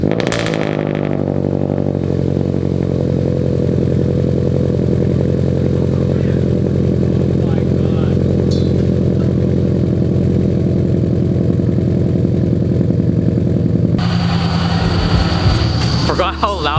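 A heavily modified, boosted Subaru BRZ with aftermarket exhaust cranks and fires up after months of sitting, then settles into a loud, rumbling, uneven idle up close, with a shift in pitch near the end.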